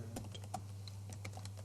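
Faint, quick keystrokes on a computer keyboard while Python code is typed, scattered soft taps over a steady low electrical hum.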